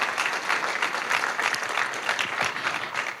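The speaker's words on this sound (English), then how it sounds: "Everyone give a round of applause to the organizers." A conference audience at Codecamp Cluj-Napoca applauds the organizers, a dense, steady wash of clapping from many hands filling the hall throughout.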